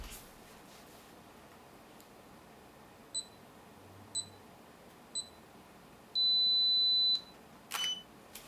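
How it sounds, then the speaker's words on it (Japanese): A Fujifilm X-T3 camera's 10-second self-timer gives three soft, evenly spaced beeps a second apart, then a longer continuous beep, followed by a quick shutter click in a quiet room. "同じようにタイマーを10秒にセットします"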